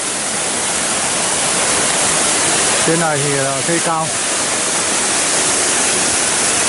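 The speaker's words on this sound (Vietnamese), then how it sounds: "Nước chảy thì trong đây là sườn đồi nó chảy xuống, thác nước nó chảy xuống đây." Waterfall spilling down a forested hillside beneath tall trees, a loud continuous rush of water throughout, with someone speaking briefly over it midway.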